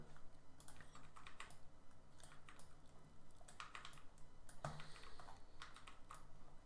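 Keys on a computer keyboard are tapped while resizing a brush in Photoshop, making quick, light clicks in irregular runs. The typing is faint and close, with no voice over it.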